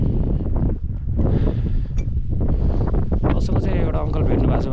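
Strong wind buffeting a microphone beside a mountain lake on a trek in Dolpa, Nepal, a loud continuous roar with gusting bursts that nearly covers everything else.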